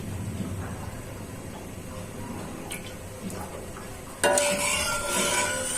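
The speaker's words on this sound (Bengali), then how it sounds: "কড়াইটা গরম হয়ে গেছে, তেলটা দিয়ে দিচ্ছি" Oil hits a hot wok and bursts into a loud, steady sizzle after a few seconds of quiet kitchen stirring and clinks.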